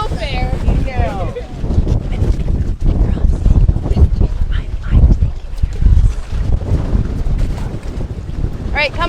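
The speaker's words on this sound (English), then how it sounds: "It's really, really windy." Strong wind blows outdoors, buffeting the microphone with a heavy, gusting rumble, while people talk and call out underneath.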